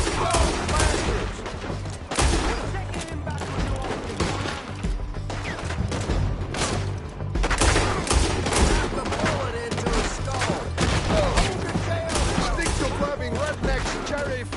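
A dense video game shootout, continuous rapid gunfire and overlapping shots crackling loudly for the whole stretch, with shouting voices mixed in.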